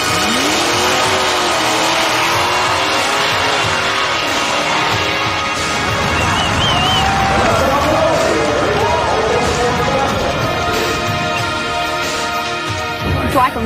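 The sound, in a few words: hot rod drag racing cars revving at the starting line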